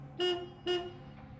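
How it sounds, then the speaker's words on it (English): A car horn in the Hello Baddies video game gives two short honks in quick succession, clear and distinct over a quiet background. "And there's a car honk."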